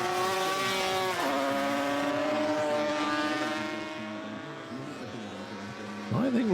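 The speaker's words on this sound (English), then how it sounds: "Piers Jones, he is riding the TZ350." Racing motorcycles, including a 250 and a Yamaha TZ350 two-stroke, scream past during a classic Grand Prix road race at Imatra, a loud sustained engine whine with gear changes and pitch sweeps as bikes go by, a second machine rising near the end.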